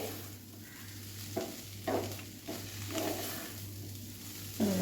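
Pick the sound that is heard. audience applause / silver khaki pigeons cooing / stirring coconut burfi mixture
stirring coconut burfi mixture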